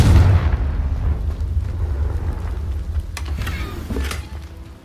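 A Confringo blasting spell explodes in Hogwarts Legacy, a heavy low boom that rumbles on for several seconds, with a couple of sharper crackling bursts near the end before it fades.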